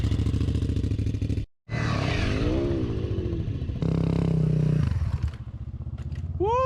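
An off-road motorcycle skids with its rear brake locked hard, engine running close by; the ride cuts out briefly, then resumes with scraping, rising and falling engine tones, ending in a short whining sweep.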